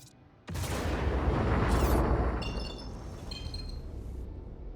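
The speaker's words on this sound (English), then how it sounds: "let's chuck another missile at him" Missile launched at a ship in Star Citizen, a sudden sharp onset into a loud roaring whoosh that swells then slowly fades, with glassy crackling and ringing tones trailing under the decay.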